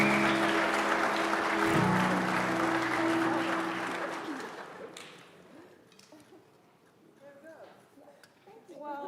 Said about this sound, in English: So a big round of applause for them once again.